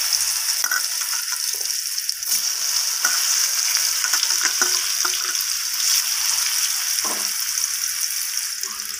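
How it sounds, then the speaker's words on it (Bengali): Boiled papaya pieces frying in a pan with dried chili and cumin, a loud, continuous close sizzle with scattered spatter pops and faint stirring scrapes throughout. "এরপর আমি সিদ্ধ করে রাখা পেঁপেগুলোকে দিয়ে দিলাম"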